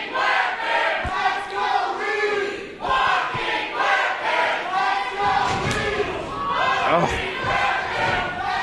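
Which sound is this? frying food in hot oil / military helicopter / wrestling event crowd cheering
wrestling event crowd cheering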